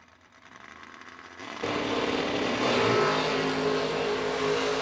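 A drag racing dragster launches hard down the strip at an end-of-year race event, a sudden loud engine roar that jumps up and holds as a sustained, raspy blast, with steady background noise before it.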